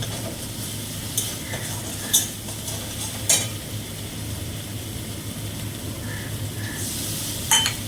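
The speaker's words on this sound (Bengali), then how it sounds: "একটুখানি জল দিয়ে কষিয়ে নিলাম হালকা করে" A mustard and cumin paste is sautéed lightly with a little water in a pan, with a continuous low sizzle under the scraping of a spatula and a few sharp metallic clicks against the pan.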